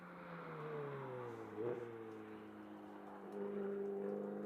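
A distant Ferrari GT race car engine drones on the overrun approaching turn 12 at MotorLand Aragón, its pitch sliding down as it coasts off the throttle, with a brief downshift blip partway through.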